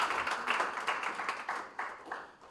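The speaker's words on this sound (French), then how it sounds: "Applaudissements." Faint, distant applause from a congregation at the opening Mass of the ACERAC permanent council, a soft patter of clapping that swells in rhythmic bursts and tapers off.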